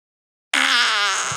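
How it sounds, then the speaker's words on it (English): A loud fart with a wavering, wobbling pitch, about a second long, bursting out of silence and standing alone. "so many different kinds of farts that come out of their buttholes."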